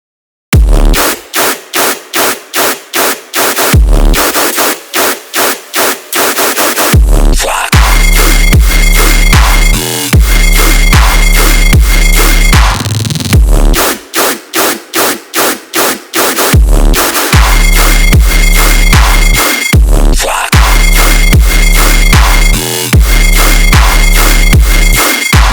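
Heavy dubstep riddim recreation of a song, loud and dense, with stuttering chopped bass stabs giving way to sustained wobbling growl sections, repeating in two similar cycles with brief gaps.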